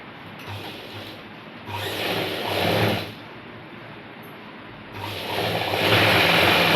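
A sewing machine stitches a pair of straight pants, its motor whirring in two steady runs of a second or so each, separated by a quieter pause.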